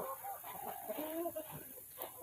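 Chickens on a poultry breeding farm cluck faintly in short, scattered bursts at a distance, soft and intermittent against a quiet background.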